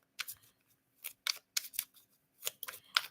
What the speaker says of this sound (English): As I'm placing back and shuffling these cards right back into the deck